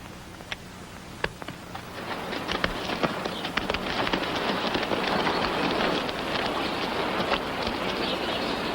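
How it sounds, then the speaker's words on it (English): Steady rain falls outside a shack, a dense hiss that builds slightly, scattered with sharp drips and taps on nearby surfaces. "the rain made me sick of the inside of that shack"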